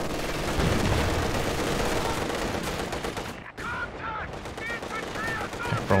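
Rapid machine-gun fire rattles in the game Company of Heroes 2, dense bursts of gunfire running almost throughout, broken by a short gap and mixed with other battle noise.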